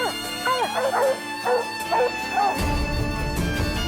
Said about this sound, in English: it's a short time before the dogs start giving voice